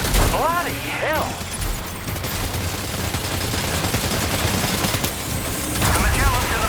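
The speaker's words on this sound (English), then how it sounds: "Opening fire now." Gunfire in the video game Death Stranding 2 erupts as a dense burst of rapid shots, with loud cracks and ringing bursts at the start and end over a continuous rattle.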